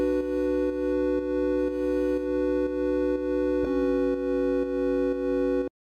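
A triangle wave synth pad from Ableton Live Wavetable holds a bright, buzzy sustained chord rich in overtones, with soft rhythmic pulses and a chord change partway through, ending with a sudden cutoff.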